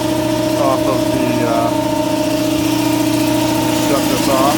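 A large exhaust fan runs on an old pool building, giving a loud, steady mechanical drone with a constant low hum and tonal whine that stay unchanged throughout.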